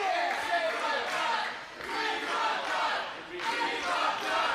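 Crowd at a live independent pro wrestling show cheering and chanting for wrestler Love Doug, a loud rhythmic roar rising and falling in repeated waves, with voices shouting together.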